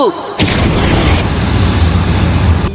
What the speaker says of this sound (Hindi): fire style fireball jutsu